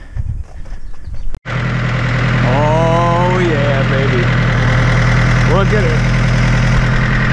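A jetski engine idles loudly and steadily at close range, a constant low throb throughout, with a person briefly speaking over it.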